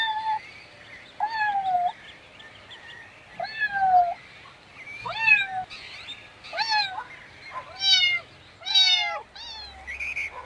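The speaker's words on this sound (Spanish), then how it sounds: "Gato." A farm cat meows repeatedly, about eight clear, drawn-out meows spaced a second or so apart, close and alone with no talk.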